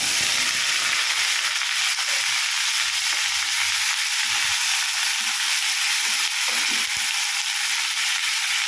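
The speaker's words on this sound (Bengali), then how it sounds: "ওই তেলের মধ্যে আমি ভেজে নেব ইঁচড়গুলোকে।" Young jackfruit pieces frying in hot oil in a pan: a loud, steady, close sizzle runs throughout, with faint stirring movements underneath.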